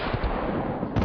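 A single rifle shot fired at a wild boar during a hunt, a loud, close blast followed by a brief rumbling decay.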